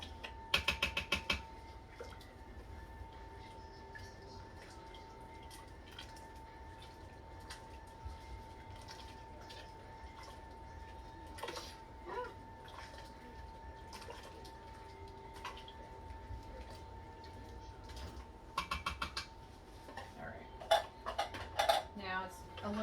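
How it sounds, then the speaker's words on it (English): A spoon stirs thick bean soup, thickened with a pasty can of beans, in an Instant Pot or crock pot, giving sharp metal clinks against the pot at the start and again near the end over a steady low background hum. "Stir it up."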